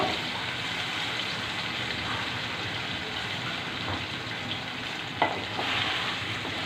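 Potatoes going into rohu fish frying in a pan, giving a steady loud sizzle throughout, with one sharp knock near the end and no talk.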